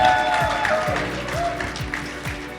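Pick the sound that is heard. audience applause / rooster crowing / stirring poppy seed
audience applause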